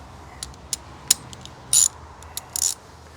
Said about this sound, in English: So this nut, these nuts are 11 millimeter socket.